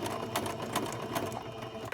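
Close, continuous whirring and rapid needle clatter from an embroidery sewing machine stitching steadily for two seconds, with no talking.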